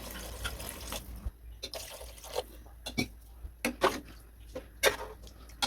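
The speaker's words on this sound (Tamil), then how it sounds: "இப்போ நம்ம தண்ணி சேர்த்துப்போம் இதுக்கு தேவையான அளவு தண்ணி நம்ம சேர்த்துக்கலாம்" Water is poured into a beef gravy while cooking, heard as intermittent splashes and trickles with irregular sharp bursts over a quiet background.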